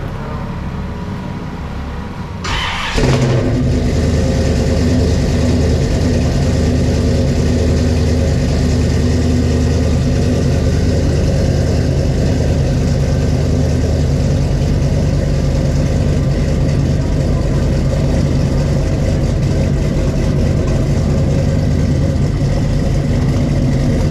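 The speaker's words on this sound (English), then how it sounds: "There's a big engine in there." A car fitted with an Oldsmobile 403 V8 starts up abruptly after a moment of quiet and settles into a loud, steady, deep rumbling idle that runs unbroken, close by and with no voices.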